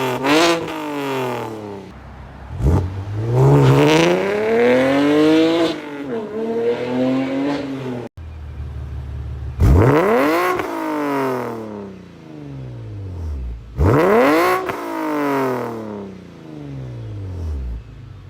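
A car with an N52 engine and aftermarket mufflers revs up hard several times, each rise climbing to a throaty, aggressive roar before dropping back, loud and close with no talking.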